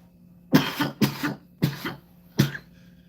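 Four sharp coughs come one after another, each a harsh burst followed by a brief pause.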